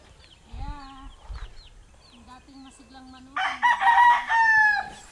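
Hens cluck softly near at hand, then a rooster lets out a loud, drawn-out crow that dominates the end.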